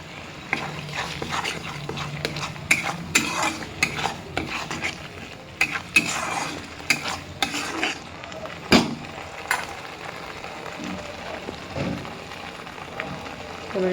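Crab being stir-fried in a pan with turmeric and cumin powder, repeated sharp scrapes and clatters of a spatula against the pan over a low, steady sizzle, close up and irregular in rhythm.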